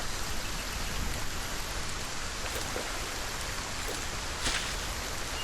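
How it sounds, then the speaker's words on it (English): Steady rain falls in the Solarpunk survival game, a dense even hiss with occasional faint drop ticks and no other sounds. "Because it's raining, like..."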